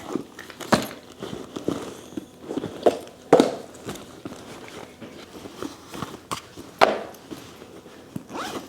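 A zipper pouch on the inner pocket of a purse is opened amid handling, with several short rasping zip pulls and rustles of the bag's contents, close and fairly loud, no talking.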